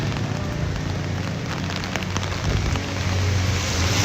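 Steady rain falls and patters on a nearby surface, filling the whole stretch with a constant hiss and scattered drops. No voices are heard.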